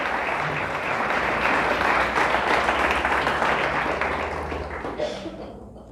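A church congregation applauds during a Spanish-language sermon, sustained loud clapping from a large indoor crowd that holds steady and then gradually fades toward the end, with some voices mixed in.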